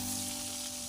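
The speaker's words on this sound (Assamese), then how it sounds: "ইলুটি কৰি মাছৰ মাথাটো মই ভাজি লৈছো।" A fish head fries in hot oil in a wok for masoor dal, giving a brief, steady, close hiss of sizzling.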